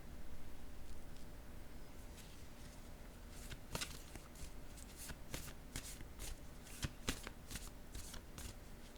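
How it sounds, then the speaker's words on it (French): Playing cards being shuffled and drawn, soft continuous riffling and sliding with sharp snapping flicks clustered in the second half, close and fairly quiet. "Je vais piger une autre carte."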